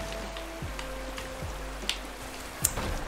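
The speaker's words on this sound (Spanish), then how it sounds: "Me cago en la lluvia, no oigo nada" Steady rain falls as a constant hiss, with a few short electronic tones sounding over it.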